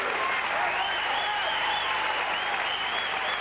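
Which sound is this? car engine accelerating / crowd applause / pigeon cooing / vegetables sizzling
crowd applause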